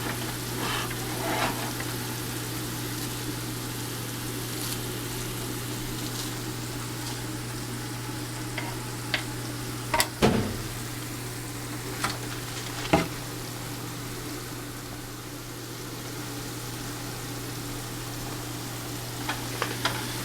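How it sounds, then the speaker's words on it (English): Fish cooking on a stove burner, giving off some smoke, with a steady sizzle under a constant low hum, punctuated by occasional sharp clicks and clanks of utensils. "Something's just on the burner cooking away and it's giving off some smoke"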